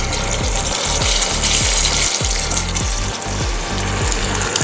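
Masala being stirred and fried in a pan for a Bengali chitol fish curry in mustard sauce, a steady loud sizzle with rhythmic scraping strokes of the spoon repeating about every half second.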